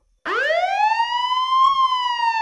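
A loud siren wails up sharply from silence and holds a high, steady tone, close and clear.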